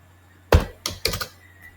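A computer keyboard is being typed on while Python code is entered, with three short clusters of key clacks standing out against a quiet background and no talking.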